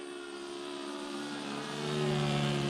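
A Sig Kadet Senior radio-controlled model airplane engine runs at full throttle for takeoff, a steady droning buzz that rises and grows louder toward the end.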